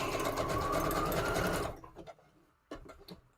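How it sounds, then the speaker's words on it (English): A sewing machine runs a wide stitch around the edge of a junk journal page with a fast, loud rhythmic whirring for nearly two seconds, then stops, leaving a few soft clicks and handling noises. "I'm just going to sew around the edge, and that's a nice big wide stitch"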